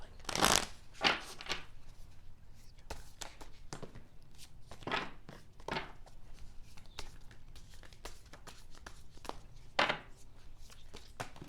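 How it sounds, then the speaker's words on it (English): Soft, irregular riffling and slapping of tarot cards being shuffled by hand, with quieter rustles in between, close and fairly faint. "I love these cards. They're just so hard to shuffle."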